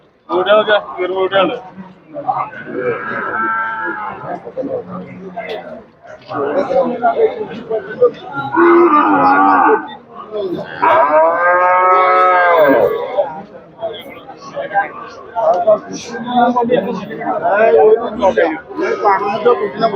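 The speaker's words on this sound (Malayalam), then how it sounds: "ചെറിയ കായൻ്റെ പോത്ത് കുട്ടികളാ" Small buffalo calves at a livestock market in Chattiparamba moo repeatedly in long, loud, drawn-out calls, several overlapping, with people talking in the background between them.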